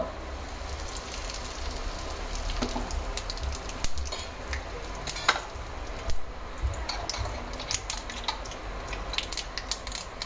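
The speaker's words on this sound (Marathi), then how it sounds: "आता फोडणीमध्ये आपल्याला मोहरी घालायची. मोहरी तडतडली" Mustard seeds crackle and splutter in hot oil in a wok-style kadhai during tempering, a quiet continuous patter of small irregular pops with a few louder snaps, no talk.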